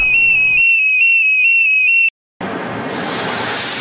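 Steam fire extinguisher system discharging onto burning paper waste: a steady, loud high whistling tone lasts about two seconds, breaks off into a short silence, then gives way to a strong, continuous broad hissing rush.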